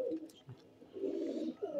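Pigeons cooing steadily on a cold day, with soft, low, rounded coos rising and falling in a near continuous chorus of several birds close by.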